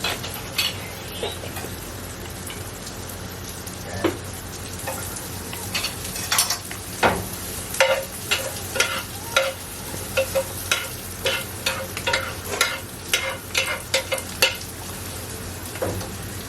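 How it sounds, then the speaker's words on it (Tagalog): Onions and carrots being stir-fried in a pan for a sweet and sour egg dish: a steady sizzle with a rhythmic run of close, sharp spatula scrapes and clinks, no talking. "Pag medyo gisa na yung sibuyas nyo, dadagdag nyo na yung carrots."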